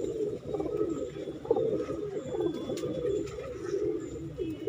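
Madrasi pigeons cooing in a steady low murmur, several soft overlapping coos rolling on throughout, fairly close with a little background noise.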